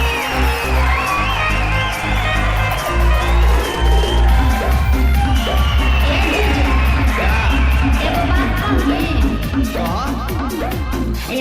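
Loud audience at a Bhojpuri film awards show, the Sabrang Film Awards, cheering, whooping and clapping in a steady dense roar that carries on without a break.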